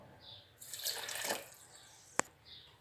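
Water is poured into a blender jar holding eggs and sugar for a sponge cake batter, a short splashing stream close up, then a sharp clink.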